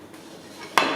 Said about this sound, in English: Just give this another quick little stir.